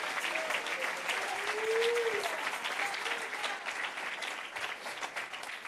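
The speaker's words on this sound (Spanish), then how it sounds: "Si le va a dar palmas, las da fuerte para el Señor" A church congregation claps loudly and steadily through a worship service, a dense sustained wash of applause with a brief voice rising faintly beneath it.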